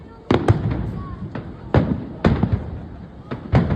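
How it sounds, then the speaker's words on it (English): Fireworks bursting at the Blackpool fireworks championship, a series of sharp booms and crackling pops at irregular intervals, some distance away, over a low background of crowd murmur. "And we're actually in Blackpool tonight, watching the fireworks, and Jacob's keeping nice and dry."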